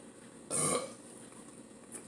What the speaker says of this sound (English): I think I got a burp